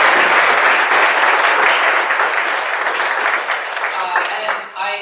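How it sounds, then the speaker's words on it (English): Audience at a tech talk on natural language processing breaks into sustained, dense applause that stays loud throughout and tapers slightly near the end. "give them a round of applause"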